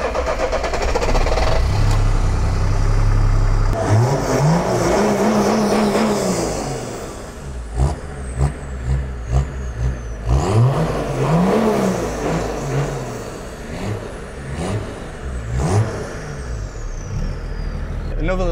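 Diesel-swapped BMW E30 wagon, farm-built: the engine cranks and fires, then is revved several times in rising and falling bursts with a rough diesel clatter, loud and close, with people talking nearby.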